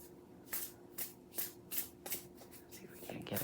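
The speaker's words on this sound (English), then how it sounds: "let's give them a shuffle" A brand-new deck of cards is shuffled by hand, giving about seven quick riffling bursts in a steady rhythm, close and fairly quiet, the last ones running into a longer continuous riffle.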